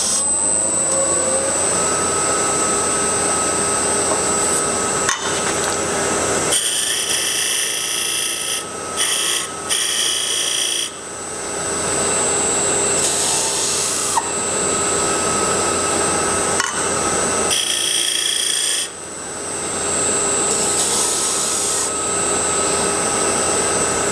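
A wood lathe turns a box elder lid, with the tool cutting a 45-degree tapered tenon. A steady high whine and whir is broken by several brief pauses and bursts of louder cutting.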